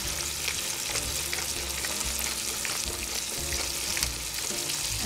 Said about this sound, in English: I want it to brown a little bit on each side before I put it in the oven to get finished.